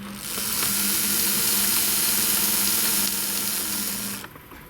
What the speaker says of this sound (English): this yellow controller is now controlling the Ringfield motor, so hopefully you'll hear that if I start it up